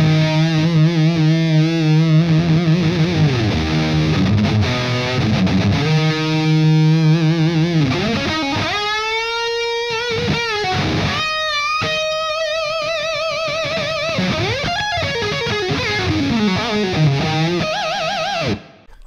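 Electric guitar played through a heavily distorted cheap mini amplifier, a sustained long note and bends with buzzing harmonics ringing loudly for nearly twenty seconds, then cutting off abruptly at the end.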